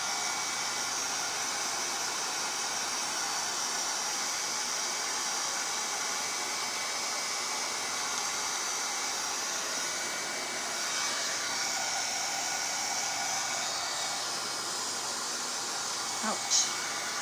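A hair dryer blows steadily and close for the whole stretch, drying glue on a paper bag candy corn craft, with a faint click near the end.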